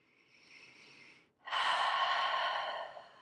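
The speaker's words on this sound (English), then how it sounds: "And I'm going to take a breath." A person draws a slow breath in softly, pauses briefly, then releases a louder, longer sighing exhale, close and alone.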